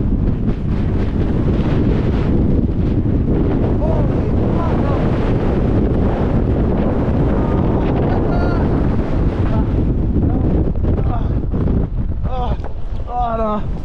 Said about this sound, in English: I can hear the wind up here, like, so good, the shelter.